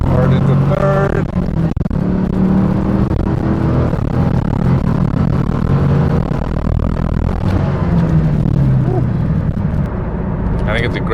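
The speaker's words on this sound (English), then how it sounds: "Do a second gear pull. Hard into third." Chevrolet Camaro Z/28 engine pulling hard through second gear and into third, a loud continuous roar with rising and falling pitch across the gear change, close to the listener, with brief talk near the start.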